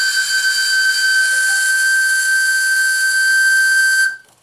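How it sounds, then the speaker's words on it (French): A steam whistle on a live steam Stuart D10 water pump blows one long, steady, piercing tone with a hissy edge, loud and close, then cuts off abruptly. "Le sifflet fonctionne beaucoup mieux."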